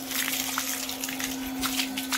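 Water splashes and trickles steadily while a dog is being bathed, a continuous close wash of liquid sound with a few louder splashes and a steady background hum.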